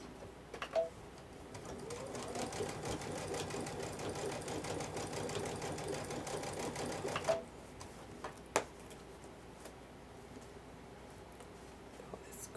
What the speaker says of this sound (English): I'm sewing just inside that edge, and my fin's against the edge.